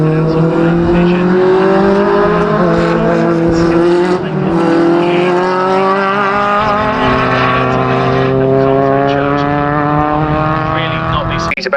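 Race cars lapping the Anglesey circuit in a club racing event: loud, sustained engine drone with rising and falling harmonic tones as cars pass close by, nearly continuous for the whole stretch, with a commentator talking over it.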